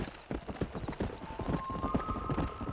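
A horse gallops in the video game Red Dead Redemption, fast rhythmic clip-clop hoofbeats, close and clear, with a thin tonal ring entering partway through.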